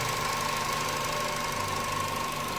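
Chevrolet Cobalt engine idling smoothly after its throttle body was cleaned and adapted, a steady close hum with a faint high whine and no knock, running alone without talk.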